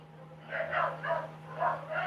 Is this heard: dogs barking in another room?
yes